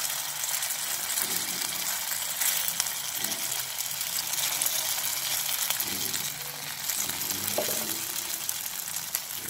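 Mashed cold rice frying in hot oil in a pan over low heat, giving a steady bright sizzle with occasional soft stirring bumps, close and continuous with no talking.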